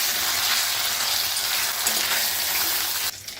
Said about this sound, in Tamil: ரோஸ்ட் பண்ணிடலாம்